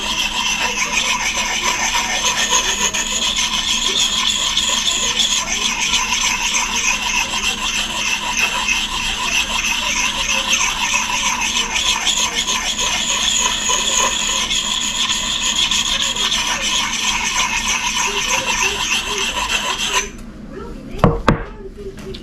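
A Gransfors Bruk small forest axe is sharpened to remove the burr, a steady rasping scrape of the stone against the steel repeating for about twenty seconds, then a couple of knocks.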